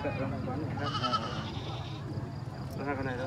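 Goats, including small billy goats, bleat amid a busy mountain livestock market, their calls mixed with a crowd's talk and steady background noise.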